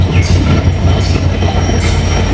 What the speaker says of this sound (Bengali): এই দিক থেকে আরো একটি ট্রেন আসতেছে, এটা আসতেছে উত্তরবঙ্গ থেকে